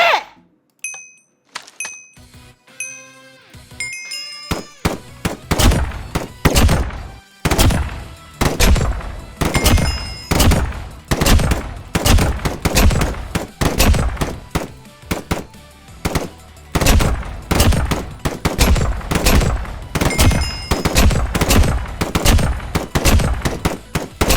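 Rifle fire on a military shooting range during recruit marksmanship training: after a few sparse opening shots, a dense, continuous barrage of sharp, loud gunshots from several shooters overlaps in rapid, irregular succession.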